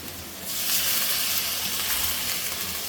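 Water poured onto hot, well-fried spice paste for a dried lotia fish curry with eggplant and tomato bursts into a loud, steady hissing sizzle after a brief quieter moment, holding strong to the end with no talking.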